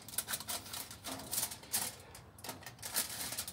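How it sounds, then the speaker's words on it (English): A knife slicing slots through aluminum foil wrapped over the diffuser of a Char-Griller 980 gravity charcoal grill, heard as quiet, close, rapid crinkling and tapping scratches in irregular bursts. "So I just take a knife and I just cut"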